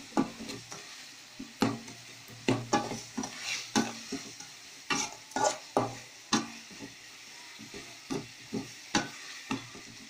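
Onions and tomatoes cook in a pan with a low sizzle, broken by repeated scraping and stirring strokes in an uneven rhythm. The stirring sounds close and fairly quiet.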